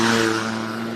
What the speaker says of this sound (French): Oh, une moto, c'est rare.